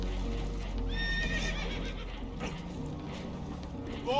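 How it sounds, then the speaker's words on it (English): Spooked horses neighing on a damaged boat taking on water in the video game Red Dead Redemption 2, a shrill whinny rising over a loud rushing, rumbling background with faint clip-clop movement. "Horses are spooked, and we're taking on water."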